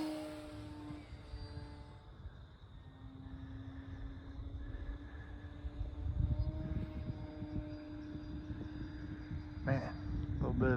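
An E-flite Slow Ultra Stick RC airplane flying inverted, its small electric motor a steady, faint drone that rises and falls in pitch, heard under someone talking, with outdoor wind rumble.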